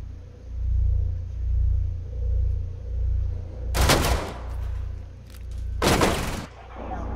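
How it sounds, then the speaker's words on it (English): Two sharp, loud blasts burst over a low rumbling in the Rainbow Six Siege video game as C4 detonates, each a brief broadband explosion about two seconds apart. "C4 detonated!"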